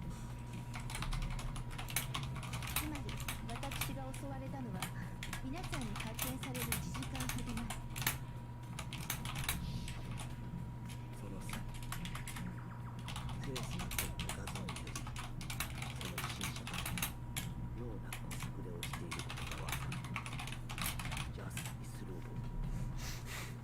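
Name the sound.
typing on a computer keyboard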